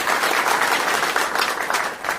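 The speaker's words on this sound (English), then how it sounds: "Sort of round of applause here." A short applause sound effect plays on a podcast panel: steady, fairly loud crowd clapping that fills the brief moment without a pause.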